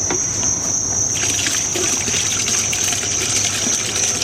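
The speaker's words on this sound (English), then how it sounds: "Looks like we have a good water flow." Water gushes and trickles steadily from a pump-fed Orenda tall jar garden fountain, close and loud, with a constant bright splashing hiss throughout and no speech.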